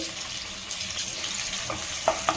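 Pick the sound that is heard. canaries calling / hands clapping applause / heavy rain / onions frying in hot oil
onions frying in hot oil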